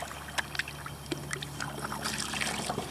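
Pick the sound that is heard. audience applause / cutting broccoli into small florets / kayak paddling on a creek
kayak paddling on a creek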